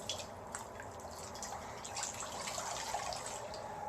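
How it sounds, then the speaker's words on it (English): Water in a bowl held on a lap sloshes and drips steadily as a washcloth is moved and wrung in it, a soft continuous liquid trickling with small splashes close by. "So I have here in my lap a bowl of water"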